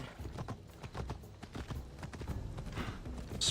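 Horse hooves clip-clopping in the video game Assassin's Creed Odyssey, a steady run of quick hoofbeats, fairly faint, with a soft ambient bed beneath.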